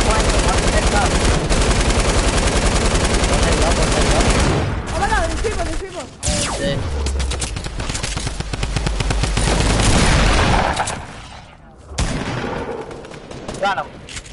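Dense gunfire in the video game Fortnite: rapid bursts of automatic fire and shots fill most of the stretch, loud and sustained, with brief pauses and shifting bursts; voices are faintly mixed in.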